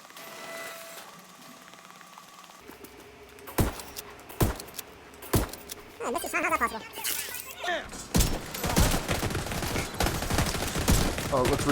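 Enemy gunfire in the video game The Division 2, with scattered single shots and then bursts of rapid automatic fire and impacts building in intensity, close and loud.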